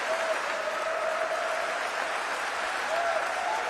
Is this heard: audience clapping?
yes